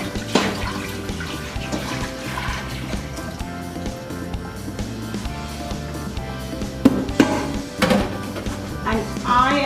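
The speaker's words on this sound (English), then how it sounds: "I'm going to be pouring the milk in the pot." Milk pours into a cooking pot in a home kitchen while macaroni and cheese is being made, a steady liquid splashing and gurgling that runs unbroken for about ten seconds with no talk.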